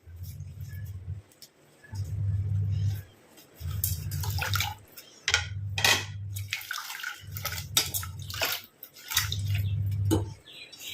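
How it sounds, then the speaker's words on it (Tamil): Flowers are swished and washed in water, with repeated bursts of splashing and dripping alongside a low rhythmic hum that cycles on and off about six times, close up and moderately loud. "எல்லாம் போய் நம்ம தண்ணியில் போட்டு நல்லா வாஷ் பண்ணிக்கலாம்."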